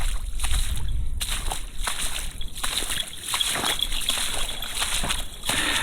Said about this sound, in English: he's got to walk through these puddles